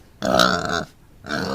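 A pig gives two deep, rough grunts close up, the first longer and the second shorter after a brief pause.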